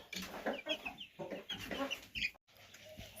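Several chickens cluck in short, irregular bursts close by, with brief pauses and a sharper squawk near the end.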